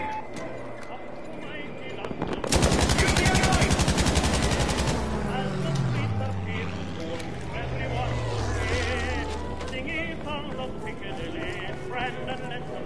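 Battlefield V gunfire: a long, rapid burst of machine-gun fire rattles loudly for a couple of seconds, followed by engine drone and more distant shots, with a voice talking over the action.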